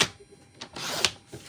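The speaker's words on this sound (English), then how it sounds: "Let me just cut this in half." Card stock for a handmade butterfly card is cut in half, giving a few short, crisp slicing and clicking strokes close by with quiet handling between them.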